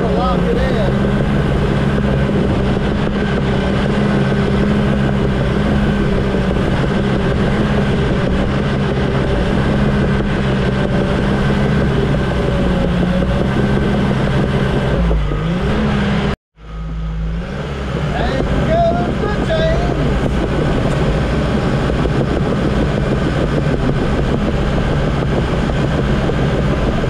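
Cat dozer cutting into a hillside while building a pole barn pad, its diesel engine droning loud and steady throughout, briefly cutting out for a moment midway before resuming at full power.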